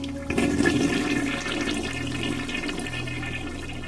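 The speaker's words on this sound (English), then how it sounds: "I jump at the sound of a running shower." A running shower in the visual novel Steins;Gate: water starts with a sudden rush, then settles into a steady hiss that keeps flowing alone at moderate volume.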